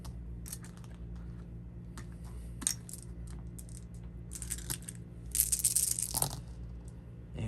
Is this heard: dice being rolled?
yes